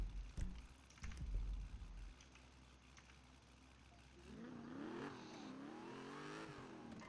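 A car engine revving in a video game roleplay, quiet overall. A low rumbling burst comes first, then a rising and falling engine whine that climbs and dips through several revs.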